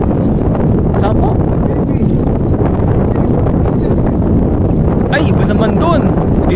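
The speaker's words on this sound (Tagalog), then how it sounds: "Ang lakas ng hangin." Strong wind buffets the microphone at a fishing pond in Coloong, Valenzuela, a steady loud rumble that fills the whole clip under conversation.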